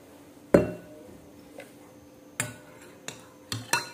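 Glass clinks as a spoon stirs a beetroot and turmeric detox drink, a sharp strike followed by several lighter taps spread over a few seconds, close and fairly quiet with no talk.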